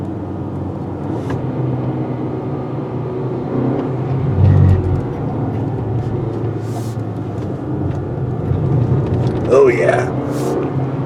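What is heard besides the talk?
2020 Acura RDX driving briskly on mountain curves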